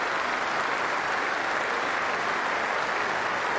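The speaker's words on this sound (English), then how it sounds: "Standing applause from this big audience out there" A large cricket crowd at an England versus Sri Lanka Test match gives a sustained standing ovation, dense and steady applause filling the ground for the whole stretch without pause.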